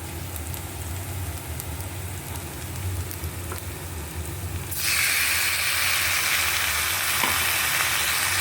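Okra masala with finely chopped red tomatoes sizzles and fries steadily in a pan, a continuous hissing that jumps noticeably louder and brighter partway through, with no talking.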